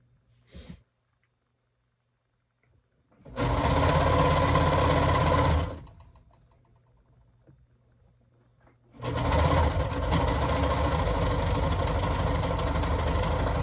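A sewing machine stitches fabric for a lounge gown in two sustained, close runs of rapid mechanical whirring, separated by a quiet pause.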